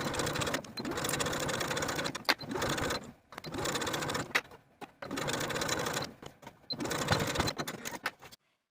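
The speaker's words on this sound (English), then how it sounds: "we're going to start our stitching from where our shoulder stitching ended and sew straight across" A sewing machine stitches straight across a vest collar in steady whirring runs, stopping and restarting about five times in short pauses, close and clear with no talk.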